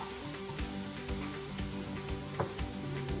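Young leeks and onions sizzle steadily in a frying pan, a continuous close crackle with faint stirring knocks and no talk.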